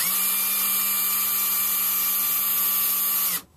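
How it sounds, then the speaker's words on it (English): A power drill whirs steadily at close range for a few seconds twisting wire, then stops abruptly. "just take the drill and twist"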